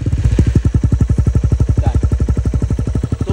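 A street-legal motorcycle engine is held at a steady 2000 RPM for a decibel-meter test. It gives a loud, close, even chugging pulse that throbs without a break, and no one speaks over it.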